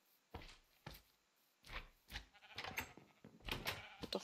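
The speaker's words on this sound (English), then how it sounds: "I've got a teleporting sheep." Repeated sheep bleats from a Minecraft game, several short separate calls spaced across the moment, growing busier and louder toward the end, with no talking.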